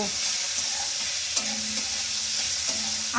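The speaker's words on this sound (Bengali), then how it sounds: "এবারে সিদ্ধ করে রাখা মোচা দিয়ে দেব মোচাগুলো নাড়াচাড়া করে নেব" Boiled banana flower stirred in hot oil in a pan with nigella seeds and dried chilli, a steady soft sizzle with a few light scraping strokes of the spatula, close and quiet with no talk.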